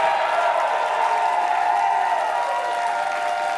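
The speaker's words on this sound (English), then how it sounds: "Give them a big round of applause." Sustained applause and crowd noise from a rock concert audience in Denver cheering the band members, a steady dense wash of clapping with no breaks.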